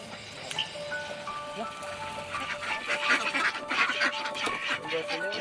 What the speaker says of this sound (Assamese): এইখিনি হৈছে জিন্তুৰ হাঁহ।